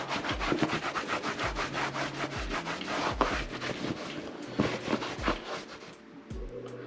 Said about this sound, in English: what we'll do is come back with a clean wet rag, kind of scrub it in